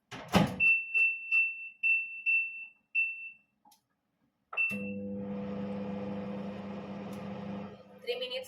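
Microwave oven heating leftover food for three minutes: a run of evenly spaced beeps, a door clunk, then a steady close electric hum with a motor drone.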